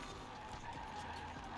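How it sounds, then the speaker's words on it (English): Tires screech in Forza Horizon 4 as an A-class car is driven hard through a corner while passing an old E-Series van, a continuous skidding squeal over steady engine noise, fairly loud for the whole moment with no talk. "A lot of tire screeching."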